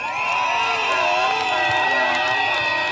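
A large political rally crowd cheers loudly for the governor, a dense sustained roar of voices with whoops and shouting, and tonal shouting rises and falls over the din.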